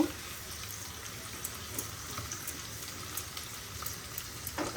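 Soft, steady frying hiss of vegetables and green chillies in a pan, with light scattered crackles, fairly faint and even throughout, with no clear talking.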